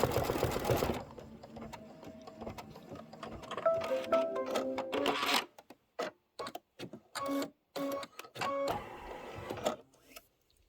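An embroidery machine stitches a boot sole fill in dark gray thread, a steady mechanical whir of rapid needle strokes that breaks into short start-stop bursts with clicks and brief pauses.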